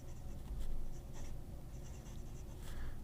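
Fountain pen with a medium Kegeloo nib, a Montefiore 845, scratching softly across paper in quiet close strokes with short pauses between them.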